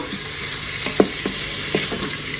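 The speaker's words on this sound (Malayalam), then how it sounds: "അത് നല്ലോണം ഒന്ന് അതിന്റെ പച്ചമണം വരണ വരെ ഒന്ന് വഴറ്റിയെടുക്കുക" Garlic and ginger sauté in an Instant Pot for a black chickpea curry, giving a steady hiss of sizzling oil broken by a few soft scrapes and taps of stirring, with no voices.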